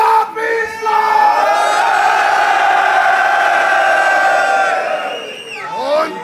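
Rap battle crowd in Munich roaring to welcome a contender, loud sustained cheering, yelling and whooping from a packed room that swells, holds and then fades.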